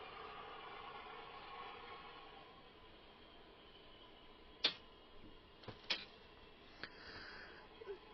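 A steady low rumble of a model train running on a layout track controlled through JMRI, with a few sharp clicks and clunks near the middle and end.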